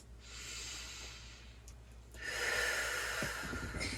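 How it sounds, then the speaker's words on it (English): Deep grounding breaths during a guided spiritual session: a soft, long inhale followed by a louder, breathy exhale, close and quiet with no talking. "Let's go ahead and take some grounding breaths."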